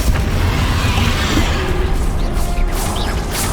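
A Bombarda blast spell going off during a busy spell fight in the Hogwarts Legacy video game: a dense, loud rumbling burst inside a continuous wash of combat noise, with no gap of quiet.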